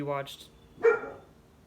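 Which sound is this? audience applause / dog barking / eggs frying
dog barking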